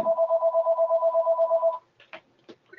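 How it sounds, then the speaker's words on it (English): A house phone rings with a rapid warbling electronic trill for about two seconds, then stops, followed by faint clicks and rustles. "House phone's ringing."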